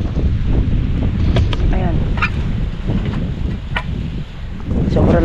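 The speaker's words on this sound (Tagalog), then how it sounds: "sobrang lakas ng hangin" Strong wind gusting across open land, a steady loud roar with buffeting against the microphone, while a person talks over it.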